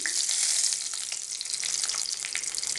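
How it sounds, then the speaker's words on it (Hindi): Curry leaves and garlic frying in hot oil for a raw mango fish curry, making a loud, close, bright sizzle that holds strong and steady from start to finish, with no voices. "ये गरम तेल में हम कड़ी पत्ता लहसुन"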